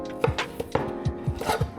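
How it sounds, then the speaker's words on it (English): Knife chopping ingredients on a cutting board while cooking cilantro lime chicken: a run of sharp, close taps at an irregular rhythm over a steady kitchen hum. "Now we can get to chopping."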